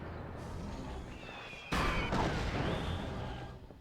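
Confusion grenades going off in the video game Psychonauts: a sudden loud burst partway through, following quieter game sounds with a few tonal whistles, then a fading rumbling tail.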